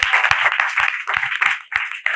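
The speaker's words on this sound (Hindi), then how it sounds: "एक बार जोरदार तालियां" Audience at an Indian talk event bursts into brisk, loud applause, a dense ongoing patter of many hands clapping with sharp individual claps standing out.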